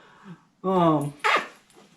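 A pet dog gives a sharp bark followed by a drawn-out, whining whimper, with a short yip after; the sounds are close and loud, with quiet moments between them.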